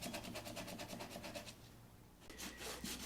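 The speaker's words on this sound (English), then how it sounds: "we're sanding the finish off of it" Rhythmic scraping strokes of sandpaper rubbing over a wooden Ruger 10/22 rifle stock, removing its finish, steady and close, pausing briefly before resuming.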